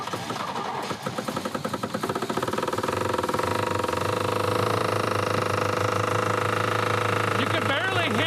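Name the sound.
badly running engine of a Cutlass car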